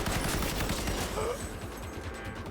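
Rapid gunfire crackles in a close, continuous burst during a firefight in Cyberpunk 2077, easing slightly toward the end.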